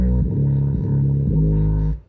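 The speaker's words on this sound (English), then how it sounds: "This is Fruity Fast Distortion. Comes with Fruity Loops." Distorted synth music run through the Fruity Fast Distortion plugin in Fruity Loops: loud, gritty sustained bass notes that shift pitch every half second or so before cutting off abruptly near the end.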